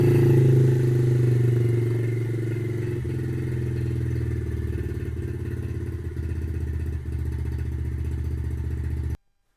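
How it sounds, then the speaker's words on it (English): A 2013 Yamaha TTR 50 50cc motorcycle engine idles steadily and close by with a low, even chug, then cuts off abruptly near the end. "So let's go ahead and start it."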